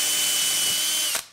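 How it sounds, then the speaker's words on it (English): A power drill bores into a plaster wall, a steady high whine running for just over a second before it cuts off abruptly; no one speaks. "so I'm going to drill right here."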